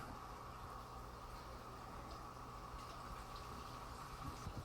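A Hygger fish waste collector siphon pulls aquarium water through its hose, giving a steady, close, low gurgling rush of suction that runs unbroken throughout.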